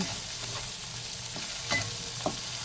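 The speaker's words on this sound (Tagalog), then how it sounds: "I igigisa na natin at halo-haloin." Sayote, with tomato, sizzles as it is sautéed and stirred in a pan, a steady close hiss broken by a couple of spatula scrapes.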